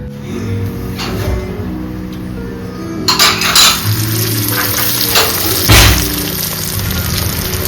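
Fish cutlets frying in a small amount of oil in a pan, a steady close sizzle with a sharp burst of crackling partway through and a low background hum.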